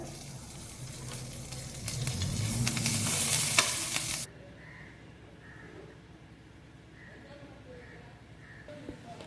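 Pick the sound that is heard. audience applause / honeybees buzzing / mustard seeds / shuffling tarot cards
mustard seeds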